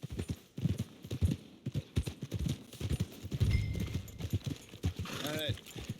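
Hooves clip-clop steadily on a horse in the Red Dead Redemption 2 video game, a rhythmic series of close, moderately loud hoofbeats running under a man's soothing speech, with a brief whinny-like tone near the end.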